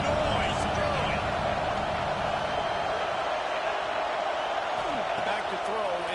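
A college football stadium crowd at Tennessee vs Georgia roars continuously, a dense, loud, unbroken wall of cheering and noise that holds steady throughout.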